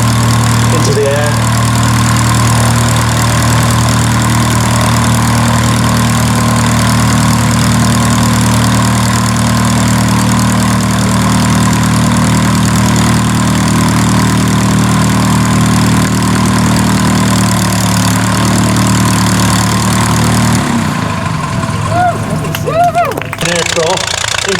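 Edwardian Deperdussin monoplane's engine at the Shuttleworth evening airshow: a steady droning, buzzing engine running for about twenty seconds with a commentator talking over it, then the note abruptly shifts and drops away near the end.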